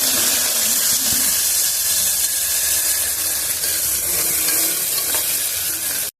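Mint leaves sizzle in hot oil in a frying pan, a steady loud hiss and crackle holding for several seconds with no talk.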